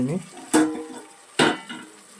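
Chopped carrots and beans tipped into a hot pan for vegetable rice bath, giving two sharp sizzling bursts of stirring and frying with quieter scraping between, close and alone without talk.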